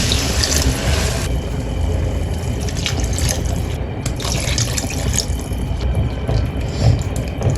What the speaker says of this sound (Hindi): अब हम इसके अंदर 3 कप पानी डाल देते हैं।